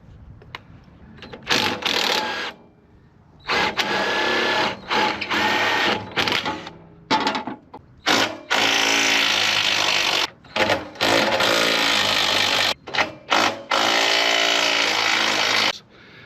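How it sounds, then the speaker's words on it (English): Power tools cutting metal brackets off a boat trailer during demolition, loud grinding bursts that start and stop repeatedly, with short pauses between cuts. "So here we go again with some power tools."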